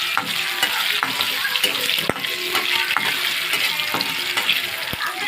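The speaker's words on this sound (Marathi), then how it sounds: "इलायची आहे ते आपल्याला लालसर भाजून घ्यायची आहे" Cardamom along with cashews, almonds and raisins being roasted in a pan for banana sheera, giving a steady close frying sizzle with stirring scrapes and a few sharp clicks throughout.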